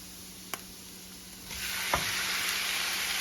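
Shrimp drop into a pan of hot garlic butter, and after a couple of light clicks a bright, steady sizzle swells up and holds, close and fairly quiet with no voices.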